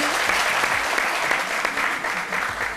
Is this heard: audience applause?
yes